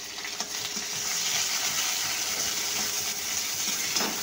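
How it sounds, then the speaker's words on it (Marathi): Dried green chillies and curry leaves sizzle in hot tempering oil, giving a steady, close hiss that holds evenly throughout, with a few faint clinks from the pan. "इथे छान फोडणी झालेली आहे आपली"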